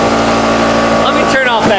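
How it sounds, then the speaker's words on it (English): A workshop air compressor runs steadily and loudly through the whole stretch, a dense continuous mechanical drone with a brief shift near the end. "Let me turn off that compressor"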